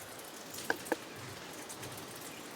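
Rain falls outside as a faint, steady hiss, with two brief sharper ticks of drops landing close by early on.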